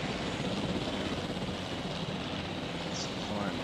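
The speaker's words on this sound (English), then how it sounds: "Let's go for a ride in the ACU helicopter." ACU helicopter in the video game Jurassic World Evolution, a steady, loud whirring rotor and engine drone that continues evenly throughout.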